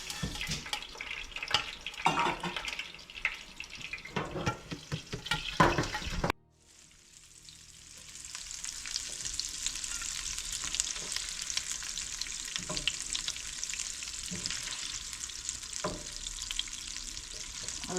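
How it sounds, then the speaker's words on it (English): Frozen Guyanese shrimp sauté and sizzle in a pan with steady frying hiss, broken midway by a brief drop to near quiet before the sizzle builds back up, with occasional stirring scrapes. "Just gonna saute the shrimp, let it cook a little."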